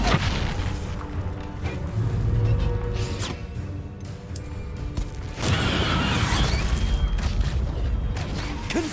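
Expulso blasting spells going off in the game Hogwarts Legacy, heavy booming explosions rumbling over continuous battle noise, with a sharp loud burst partway through.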